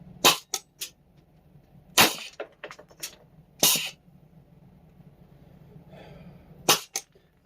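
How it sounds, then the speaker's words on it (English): A FLAK 10 gun fires a series of sharp, loud cracks at irregular intervals, some close together and others separated by quiet pauses, over a faint low hum. "and then I'll fire a mag, maybe two"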